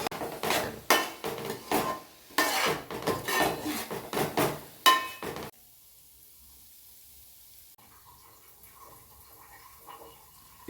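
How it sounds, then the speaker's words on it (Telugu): Soaked lentils with a little salt being stir-fried in a pan, with a run of close clattering scrapes and utensil knocks against the pan for about five seconds, then near silence and faint scattered clinks. "ఇప్పుడు ఈ పప్పు బాగా ఫ్రై చేసుకోవాలి."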